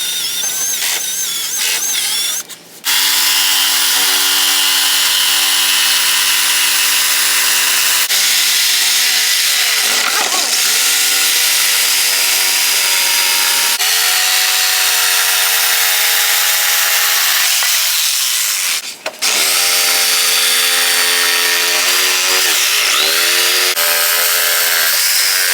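A power saw cuts speaker holes in wood panels for a bandpass subwoofer enclosure in a Chevy Silverado, a loud, continuous whining drone that runs almost without pause, with a brief break about a quarter of the way through and another near the end.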